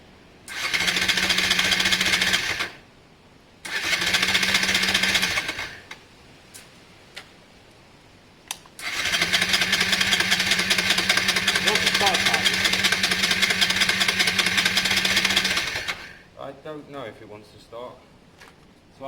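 A Honda Varadero 125 motorcycle with the choke on is cranked over in three separate attempts, each a loud, steady mechanical whirring burst with a low hum underneath, separated by short pauses and light clicks, and followed by faint ticking.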